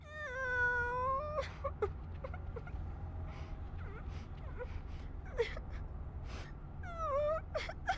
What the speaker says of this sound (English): where the fuck is the child crying noise coming from?